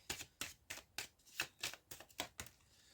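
Tarot cards being shuffled by hand before two are drawn, a series of about nine crisp close riffling bursts in a quick, fairly even rhythm.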